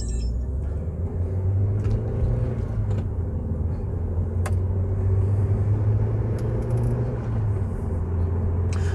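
A first-generation Audi TT is driven on the road, with a steady low engine drone and road rumble heard from inside the cabin, continuous and fairly loud throughout.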